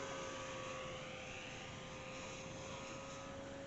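An RC P-40 model airplane with a 2000 mm wingspan runs its engine at wide open throttle, giving a continuous buzzing drone with a steady whine that holds level and fairly faint throughout.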